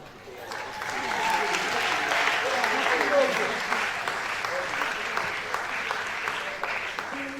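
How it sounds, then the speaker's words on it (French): An audience at a formal parliamentary-style ceremony breaks into applause, swelling to a sustained, moderately loud round of clapping with some voices mixed in beneath it. "Sous vos applaudissements"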